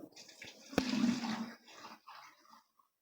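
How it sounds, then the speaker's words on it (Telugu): A jug of plain water is poured into a container while making an aloe vera liquid for plants, one short close gushing splash lasting about a second before trailing off into quiet trickles. "ఒక జగ్గు మామూలు వాటర్ వేస్తున్నాను ఇందులో"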